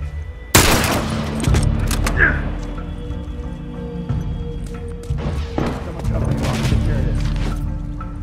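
Rifle gunfire in The Last of Us Remastered, with sharp loud shots cracking out amid a burst of rapid fire, thuds and crashes, while voices shout over the combat noise.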